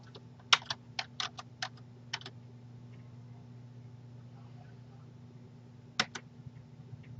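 Computer keyboard keys struck in short clustered bursts while entering a value into an Excel spreadsheet, a quick run of clicks followed by a long pause and then a final pair of taps, fairly close and alone over a low steady hum.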